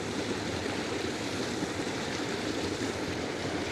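Cold trout stream water flowing steadily close by, a continuous broadband rush and babble with no pauses and no voices.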